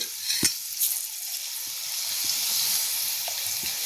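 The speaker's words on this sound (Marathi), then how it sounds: "अशा पद्धतीने आपल्याला पीठ सोडायचं आहे तेलामध्ये." Vada batter sizzles steadily in hot oil for street-style vada pav, a continuous bright frying hiss with a few soft pops and stirring taps, heard close up with no talking.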